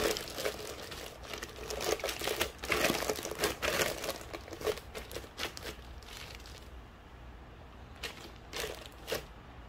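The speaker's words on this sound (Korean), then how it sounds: "이렇게 비닐봉투를 씌워서 바늘 구멍을 한두 개 뚫어줍니다" A plastic bag crinkles and rustles as it is stretched over a glass jar of fermenting plum wine, with close, irregular crumpling bursts that grow louder, then thin out into occasional soft crackles.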